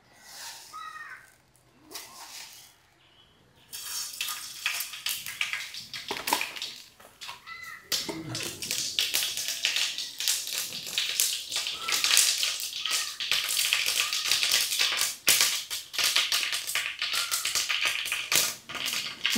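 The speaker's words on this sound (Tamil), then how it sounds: "எண்ணெய் காஞ்சிட்டு கடுவை போட்டுருவோம்." Mustard seeds crackle and spit in hot oil in a home kitchen, a dense popping sizzle that builds after a quieter start and keeps going steadily to the end.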